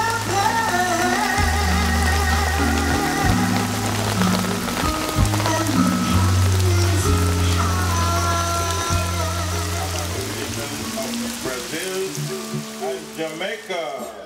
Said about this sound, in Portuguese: Essa chuva aí, ó, é o batizado do bagulho na Jamaica.